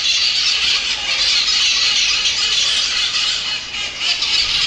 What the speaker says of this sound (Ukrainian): Йдемо тут такі звуки, папуги галасують.